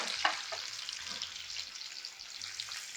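Garlic tempering crackles in hot oil for tomato pachadi, a steady bright sizzle close up with a few sharper pops and spatters, no voices over it.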